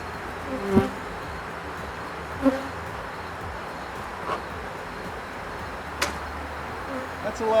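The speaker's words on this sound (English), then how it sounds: "the bees are pretty amped up right now" A steady, agitated buzz of many bees hums throughout, with a few louder bees zipping close past and occasional soft knocks.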